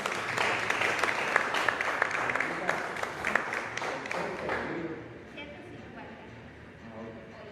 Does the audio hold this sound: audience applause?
yes